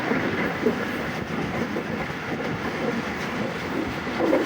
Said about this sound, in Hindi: 8:15 पर गाड़ी पास हो रही है हमारी सम्मा सट्टा जंक्शन से